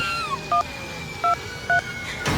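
Three short touch-tone beeps from a phone keypad, evenly spaced and clear, ring out over a quiet background, and a soft rustle follows at the end.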